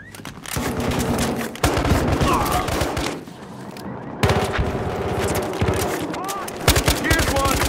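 Assault rifle fire in the police shooter game Battlefield Hardline, with loud, rapid automatic bursts that repeat with short pauses, mixed with shouted voices.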